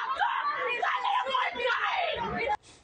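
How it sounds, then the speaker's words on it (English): Parents screaming and wailing in distress outside a Texas school during a shooting, a dense, continuous chorus of anguished cries and yells that holds loud and steady before cutting off abruptly near the end. "While the police are assessing what to do, those parents are screaming."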